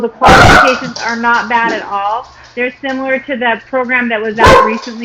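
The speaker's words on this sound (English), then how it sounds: "Sorry for the dog barking." A dog barks loudly and nearby in a few sharp bursts, at the start and again near the end, while a person talks steadily throughout.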